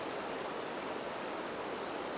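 Broad river rapids where a tributary joins upstream, carrying a large volume of water past rocks; a dense, steady rushing roar, continuous and close, with no voices.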